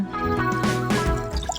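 Water pours steadily into a pot of bitter gourd kuzhambu nearby, a gurgling fill that shifts in pitch as the level rises, with no talking.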